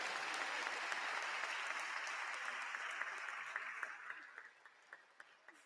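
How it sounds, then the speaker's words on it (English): Sustained audience applause from a crowd at a graduation induction ceremony for newly qualified physician assistants, dense and steady before thinning to a few scattered claps at the end. "Please don't let the applause die down"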